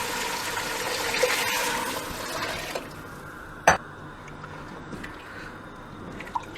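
Lamb yakhni broth, about four and a half glasses, pours into a pot of fried masala: a steady watery rush for nearly three seconds, then it fades to a quieter simmering background with a single sharp clink.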